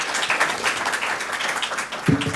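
Audience applause for Senator Cory Booker at a civil rights and artificial intelligence briefing, a short, fairly even patter of many hands clapping that swells slightly at the end.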